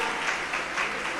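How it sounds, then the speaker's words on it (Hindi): Applause from an audience welcoming a guest at a Jain religious gathering, a steady broadband wash of clapping that stays even and moderately loud through the short stretch. "तालियों से स्वागत करें।"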